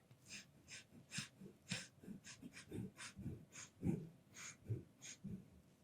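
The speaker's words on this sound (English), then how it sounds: "Taking one last sniff for the road." Repeated short, sharp sniffs in quick rhythmic bursts, close to the microphone, with soft breathing between them.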